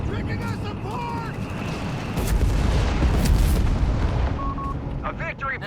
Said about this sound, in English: That's gotta be one of the best satchel charges I've seen in a long time.